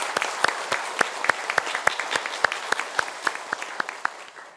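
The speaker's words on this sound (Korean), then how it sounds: "우리 모든 은혜에 감사하며 하나님 앞에 영광의 박수를 올려드리겠습니다" Church congregation clapping in rhythm during a Korean Thanksgiving harvest Sunday service, a steady beat of sharp hand claps that gradually thins and fades at the end, with no voices over it.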